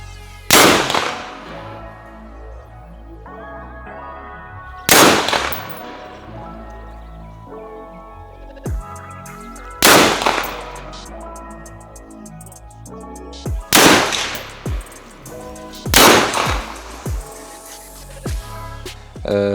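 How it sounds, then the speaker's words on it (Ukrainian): Several loud, sharp shots from an Andro Corp Bravo Base .223 Rem/5.56 NATO carbine at a shooting range ring out a few seconds apart, each a sudden crack with a short echoing tail, plus a few fainter bangs between. "Постріл."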